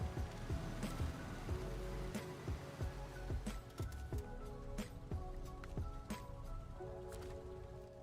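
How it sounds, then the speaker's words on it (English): Steady rain in the off-road truck game SnowRunner, a dense, continuous patter with scattered drips and splashes, heard alone without talk. "Does the fact it's raining do anything?"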